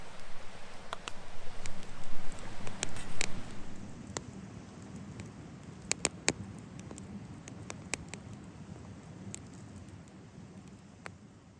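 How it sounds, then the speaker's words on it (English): Rain falling on a hammock tarp during wild camping in the Scottish wilderness, a soft steady patter with scattered louder drips tapping close by, continuous and gentle with no talking. "listening to the falling rain"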